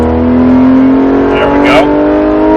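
A Porsche GT3 RS engine roars loudly and steadily on a track straightaway, its pitch rising as it accelerates, with a brief squeal near the end.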